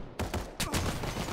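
Rapid gunfire in Final Fantasy VII: The First Soldier, a quick burst of several close, sharp shots in under two seconds over dense game noise.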